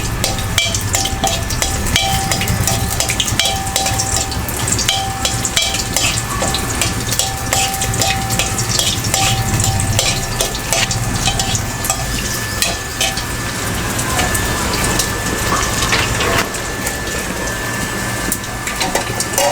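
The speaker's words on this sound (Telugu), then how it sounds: "వెల్లుల్లిపాయలు వేసుకోవాలి. ఇవి కొంచెం వేగిన తర్వాత" Garlic for palak dal fries in hot oil in a pan, giving a loud, steady sizzle with scattered crackles and occasional stirring scrapes throughout, with no talking.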